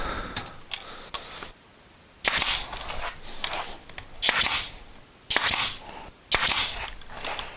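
A brad nailer fires 1 1/4 inch brads while building a wooden pegboard wrench organizer: a series of sharp, loud pneumatic bursts comes at uneven intervals, close up, with quieter handling noise between shots and no talk.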